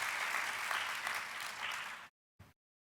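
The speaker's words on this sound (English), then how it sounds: "another round of applause for our T-led group" Applause from a general assembly audience: about two seconds of dense, even crowd clapping that cuts off abruptly, followed by a brief burst and then silence.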